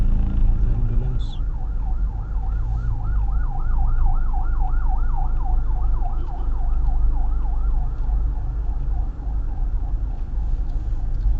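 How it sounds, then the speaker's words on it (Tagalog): An ambulance siren wails with a steady, fast up-and-down sweep over loud low rumble from a passing road, close and continuous throughout. "Ambulance."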